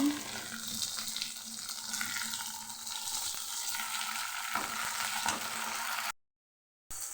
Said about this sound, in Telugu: టమాటాలు వేసి వేయించుకున్నాము